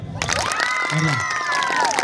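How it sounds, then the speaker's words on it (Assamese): A crowd at a Bhogali Bihu celebration claps and cheers, with a dense burst of applause, whoops and shouting voices carrying across the space, heard close and lively throughout. "এইটো হাত চাপৰি দিছে"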